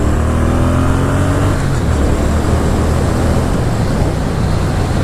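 Motorcycle climbing a mountain road, its engine accelerating hard with rising tones early on, then a dense, loud roar with wind noise through the rest.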